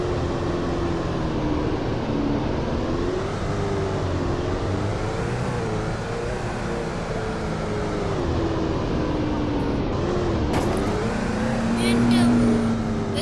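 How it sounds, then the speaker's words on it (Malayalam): Cars drive past in the Roblox game Greenville, a continuous engine hum with rising and falling pitch as vehicles come and go, heard under a person talking throughout. "നമ്മൾ അപ്പുറത്തിപ്പുറത്തൊക്കെ വണ്ടി പോകുന്നുണ്ട്, അതിൻ്റെ സൗണ്ട് കേൾക്കുന്നുണ്ട്."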